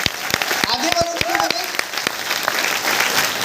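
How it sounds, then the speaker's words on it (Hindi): Applause from an audience at an entrepreneur business seminar, with the back rows clapping, heard as a steady patter of many hands alongside a speaker's voice and crowd noise. "जितने लोग लास्ट में बैठे हैं ना, एक बार जोरदार ताली अपने लिए बजाना।"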